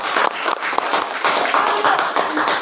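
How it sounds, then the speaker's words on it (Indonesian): Classroom applause for students, a loud burst of many hands clapping for the full length, with voices faintly mixed in. "Berikan mereka tepuk tangan yang meriah."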